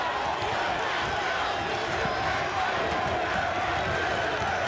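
Basketball crowd in an arena in Hartford at a North Atlantic Championship game, Vermont against Boston University, a steady even murmur and roar of many voices with no clear peaks or single shouts.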